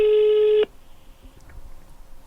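A telephone ringing tone sounds while a caller phones a taxi in Spain, one loud steady electronic tone lasting about half a second, followed by quiet line noise and faint rustling.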